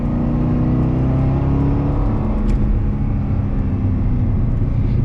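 A car engine in a racing video game, loud and steady as the car corners, the engine note holding a sustained drone with slight pitch shifts, alone without talk.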